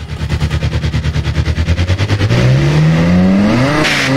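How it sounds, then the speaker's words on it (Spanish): Citroën Saxo engine in the Automation car game revving hard in a rapid pulsing rhythm, then rising into a loud sustained over-rev whine as the gearbox fails, with a brief burst near the end. "Explotó, la caja de cambios del Saxo se fue a tomar por culo."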